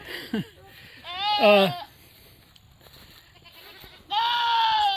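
Goats bleat loudly nearby in several wavering calls, with quieter background sounds between them.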